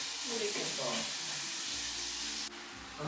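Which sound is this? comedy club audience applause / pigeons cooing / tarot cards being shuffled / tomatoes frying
tomatoes frying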